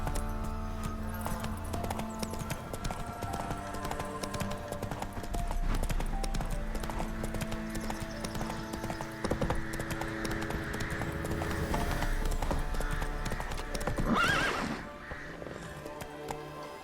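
Roach, a horse in The Witcher 3, gallops steadily with a rapid, continuous clip-clop of hooves over a low droning hum, and a brief swell of other sound near the end.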